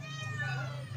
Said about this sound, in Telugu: ఇగో పిల్లి వెయిట్ చేస్తుంది మేము ఎప్పుడెప్పుడు అన్నం పెడతామా అని